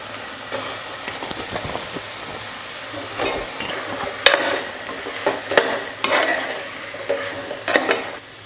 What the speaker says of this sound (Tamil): ஒரு நிமிஷம் காய் நல்லா வதக்கிக்கிட்டேன்